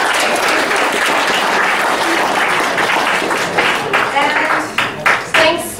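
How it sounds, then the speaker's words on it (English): A gala audience of students and families claps loudly in a dense, sustained round that thins toward the end into a few scattered, distinct claps. "You should give a round of applause."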